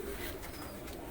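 UAE pigeons cooing in a short soft burst, with faint background noise.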